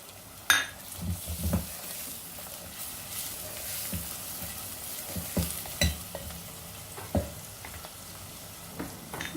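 Onions, green chilli and spices stir-fried in a pan for Sindhi mixed vegetables of potato, arbi and bhindi: steady close sizzling with repeated scraping and clinks of a spoon against the pan, no talking.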